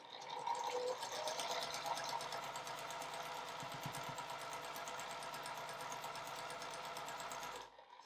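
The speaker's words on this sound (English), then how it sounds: "we're going to sew across to the point on the other side lined up with the tape here" Home sewing machine running steadily for about eight seconds, stitching Ohio Star quilt block pieces, a continuous close motor whir with fast needle rhythm that stops abruptly near the end.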